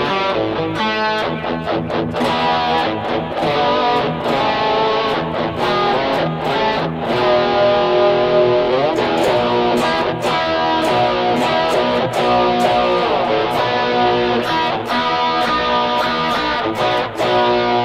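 An electric guitar plays through a Tom Scholz Rockman with Stereo Echo, a distorted riff with the echo panned to one side, loud and continuous with no talk.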